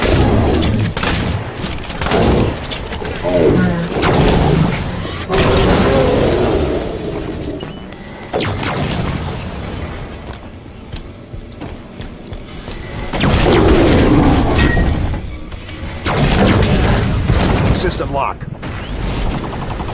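Gunfire and explosions from the video game Halo 5: Guardians, loud bursts and booms recurring through the clip, mixed with speech and game effects.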